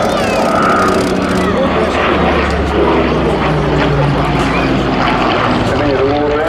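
A Lancaster bomber roars overhead in an airshow display at Southport, its heavy propeller engines a loud continuous drone, with a commentator talking over it.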